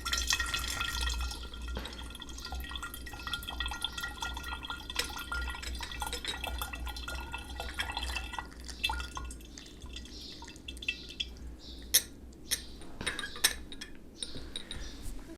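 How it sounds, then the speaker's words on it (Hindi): Water is poured into a distillation vessel for a four-herb hydrosol, first as a steady splashing pour, then thinning into scattered drips and light clinks near the end. "सबसे पहले पानी को डाल लेते हैं अंदर"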